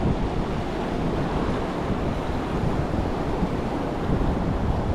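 Ocean waves break near a shallow, rocky shore, a constant loud wash of surf mixed with wind noise across the microphone, with no pauses.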